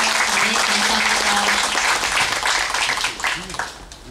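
A room full of people bursts into sustained applause to welcome a guest at a year-end award ceremony and fashion show, dense clapping that fades out near the end with some voices mixed in.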